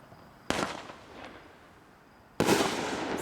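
Two sharp consumer firework bursts from a Speed Racer cake, the first crackling blast fading into a hissing tail, then a second loud burst erupting near the end, close by and with no talking.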